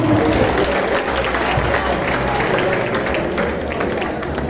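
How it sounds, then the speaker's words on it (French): A large crowd applauds an honored farm producer at an agricultural awards ceremony in Benin, dense, loud, continuous clapping that holds steady throughout with a faint murmur of voices beneath. "c'est le moment d'applaudir"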